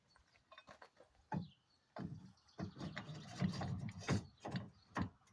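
Ratchet tie-down on a Ford F350 truck securing a Lance 951 camper clicks in short bursts of rapid mechanical ratcheting, close and crisp, with brief pauses between pulls.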